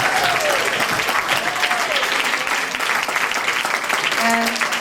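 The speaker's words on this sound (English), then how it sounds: "I think we need another big round of applause" An audience applauds for children gathered in front of a stage, a full, continuous round of clapping with faint voices and cheers mixed in under it.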